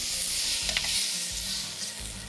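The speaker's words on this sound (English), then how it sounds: "This is a pretty quick sear." Pork loin searing in a hot pan, a steady bright sizzle with faint crackles and some low thumps of handling beneath it, close and continuous.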